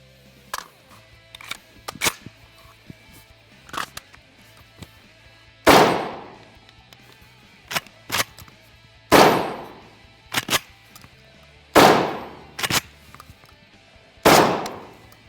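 Vepr-12 VPO-205-03 shotgun firing several loud, close single shots at irregular intervals, each with a sharp report and ringing decay, interspersed with metallic clacks of the action.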